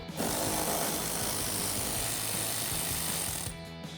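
A power tool spins a 10mm socket on a fender bolt of a 2016-2021 Toyota Tacoma, giving a loud, steady whirring buzz that runs continuously for about three seconds before it cuts off abruptly.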